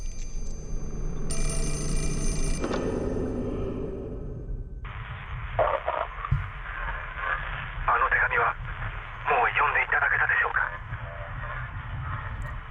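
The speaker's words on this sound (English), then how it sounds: "And this phone is ringing, so let's answer this phone because it is annoying me." An old telephone rings in the Fatal Frame 4 video game, a steady trilling ring that gives way to a hissy, crackling line while low ambient tones continue underneath.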